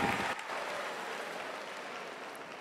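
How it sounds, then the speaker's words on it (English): An audience at a California FFA state convention session gives a steady, dense round of applause that fades slightly as the Star in Agribusiness finalists leave the stage. "giving our Star in Agribusiness finalists one last round of applause as they exit the stage"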